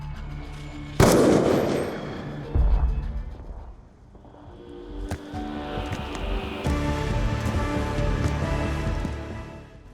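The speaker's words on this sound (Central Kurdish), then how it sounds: "قەناسەکەم دەرهینا گولەکەم تەقان" Sniper rifle fire in Black Ops 2, a loud sharp crack near the start followed by a second heavy boom, then quieter scattered impacts and a swelling low rumble with a busy game background.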